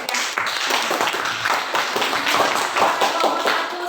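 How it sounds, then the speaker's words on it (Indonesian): Classroom applause for a group that has just presented, a dense steady patter of many hands clapping close by for about four seconds with no talk over it. "Oke, tepuk tangan untuk semuanya."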